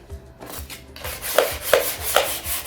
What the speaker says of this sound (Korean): 그래서 이때 사포질을 한번 해보겠습니다.